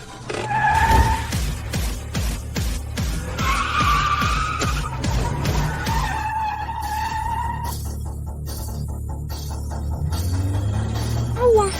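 Car tires skid and squeal loudly after the handbrake is yanked, with several sharp screeching bursts over a rumbling engine that fade into a lingering low drone.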